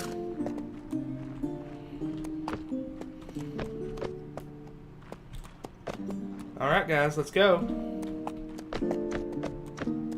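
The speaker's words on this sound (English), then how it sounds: "Grab yourself a horse and ride away with Montfort and his men." A horse clip-clops at a steady trot in the Mount&Blade With Fire and Sword video game, with a loud whinny partway through, while someone speaks over it.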